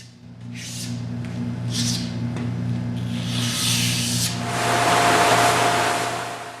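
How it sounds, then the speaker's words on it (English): A razor blade scrapes across flat mahogany shelf panels, with several rasping strokes in a row, some short and some longer, set over a steady low hum in the background. "I'm scraping with a razor"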